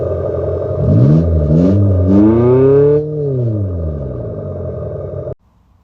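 An Abarth 500e electric hot hatch plays its synthetic engine sound: a loud, close growl that rises and falls through several rev-like sweeps, settles into a falling drone, then cuts off abruptly near the end.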